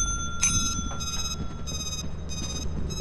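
A bell rings in Lethal Company, repeating in short bright bursts of about four rings over a low murmur of background game noise.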